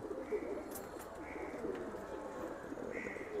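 Pigeons of fancy breeds such as Giribaz coo softly and steadily in a cage, a faint, continuous murmur with a few brief tonal notes over it.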